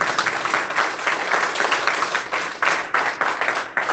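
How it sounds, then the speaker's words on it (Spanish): A crowd at a Catholic Charismatic Renewal gathering in Omaha claps steadily, dense applause with a loose rhythm that holds for the whole stretch, loud and close with no voices standing out. "vamos a darle un aplauso a Jesús y a la Santísima Madre"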